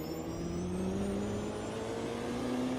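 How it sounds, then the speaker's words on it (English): A rebuilt race car engine at a 24-hour Le Mans endurance race holds a steady, loud tonal drone that slowly rises in pitch as it accelerates, close by and alone. "Geez, that sounds good, that car, Pegasus."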